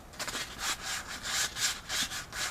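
Rhythmic sanding strokes rubbing back and forth along a lightsaber blade, close and fairly quiet, about eight passes in a steady pattern.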